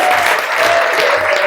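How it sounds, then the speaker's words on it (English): An audience at a conference gives a speaker a round of applause, a loud, continuous wash of clapping sustained for the whole moment without any talk over it. "So can we please give Anthony a big round of applause?"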